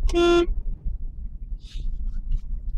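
A single car horn honk, loud and close, sounding once at the start during beginner city driving in Chennai traffic, then low road rumble continues with no talk.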